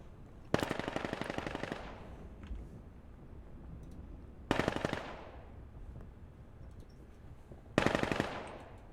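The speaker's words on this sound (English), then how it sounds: "3-3 as these shots kind of ring out" Three short bursts of rapid automatic gunfire in a 5v5 competitive shooter match, each a tight rattling volley about a second long, separated by quiet gaps with faint clicks between them.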